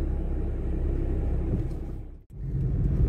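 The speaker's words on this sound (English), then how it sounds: "Whoa, the wind is blowing really, really hard." Strong wind blowing hard makes a loud, steady low roar and buffeting rumble that briefly cuts out near the end before surging back.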